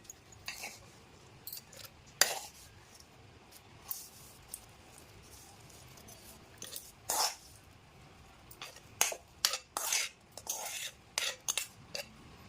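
Scattered spoon clinks and scrapes as fried ridge gourd peel is spooned into a mixer jar, short taps in irregular bursts, quiet and close.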